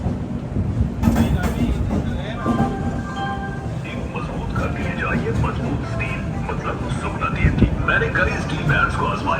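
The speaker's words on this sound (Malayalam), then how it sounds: "സിക്കന്ദരാബാദ് ജംഗ്ഷൻ റെയിൽവേ സ്റ്റേഷനിൽ നിന്നും നമ്മുടെ വണ്ടി എടുത്തിരിക്കുകയാണ്" Godavari Express pulling out of Secunderabad Junction in light rain, with a steady rumbling roll of wheels and carriage noise throughout and a few faint tonal squeals and horn-like notes, while a person talks over it.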